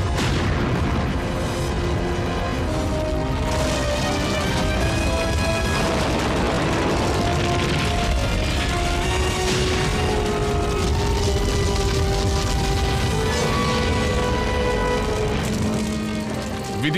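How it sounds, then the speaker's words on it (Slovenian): A loud, continuous blast-like rumble fills an explosion scene from the Slovenian-dubbed animated series Action Man, with booming low end, layered music and sound effects running steadily throughout. "Vidim eksplozijo"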